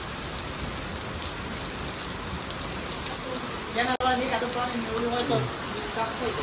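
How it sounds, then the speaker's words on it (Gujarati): Unseasonal rain falls outdoors as a steady, fairly faint hiss of drops on surfaces. A sharp knock cuts in midway, and people talk over the rain for the rest of the clip. "આ તો કમોસમી વરસાદ કહેવાય"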